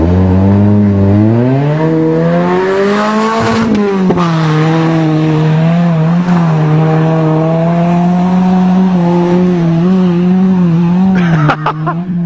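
A Nissan 200SX revs hard while driving through mud on a farm, the engine note climbing and holding a loud, steady drone close by, with a brief scrape and clatter near the end.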